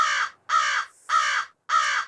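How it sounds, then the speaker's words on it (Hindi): A crow caws four times in a steady rhythm, each harsh call close, loud and clear, with short silent gaps between them. "ये तो सच में कौवा कां कर रहा है।"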